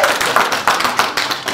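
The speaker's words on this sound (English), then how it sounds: "Can we clap for mom?" A group of people clap together for a mother at a family land-gift surprise, producing a dense, close burst of hand claps that fills the moment with steady, uneven patter and no talk over it.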